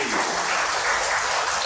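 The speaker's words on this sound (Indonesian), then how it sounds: "tepuk tangan buat Roberti" An audience claps for a participant at an online gathering for elderly people, a steady wash of applause that stays fairly loud and even throughout, with no talk over it.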